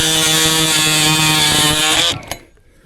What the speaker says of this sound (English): My oscillating tool, put a new metal blade on here.